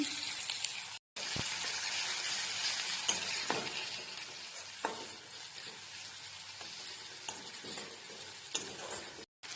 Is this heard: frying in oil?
yes